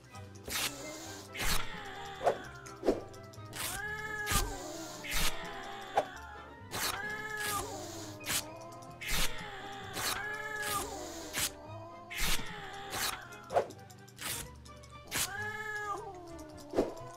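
Repeated cat meows in the video game JazzPunk, loud and close, coming in a steady string of separate cries of varying pitch over a quiet musical background.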